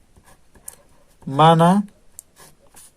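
Scratchy marker or chalk strokes on a board during a Class 12 physics lesson on electric dipoles, faint and intermittent, with a teacher speaking over part of it.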